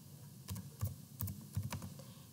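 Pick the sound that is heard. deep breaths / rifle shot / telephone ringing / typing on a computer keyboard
typing on a computer keyboard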